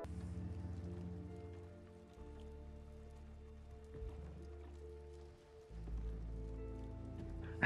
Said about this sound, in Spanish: La lluvia tiene un sonido bastante peculiar a lo largo de la cinta.